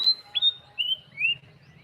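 Thin, high bird chirps sound in short separate calls against a quiet morning background.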